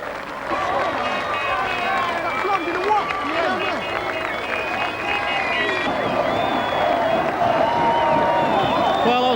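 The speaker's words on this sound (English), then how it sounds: "An open-top bus ride through the town brought unbelievable scenes as the crowds gathered to cheer" Large outdoor crowd cheering and shouting continuously as Swindon Town Football Club's open-top bus parades through the town, a dense, steady roar of voices and applause with no pauses.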